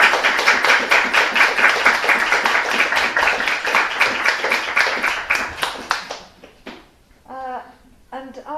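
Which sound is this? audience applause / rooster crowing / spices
audience applause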